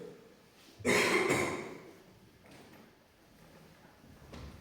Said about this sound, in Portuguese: Minha tosse.